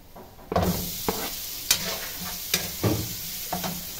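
Crab sticks and hot dog sizzle steadily in a hot pan, with several distinct clacks of a utensil stirring and scraping at irregular intervals, close and fairly loud.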